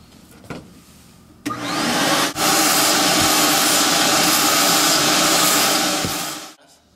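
A carpet cleaning machine rinses a mustard stain out of carpet fibers, giving a loud, steady rushing whoosh of suction and spray that starts abruptly, holds for about five seconds, then cuts off.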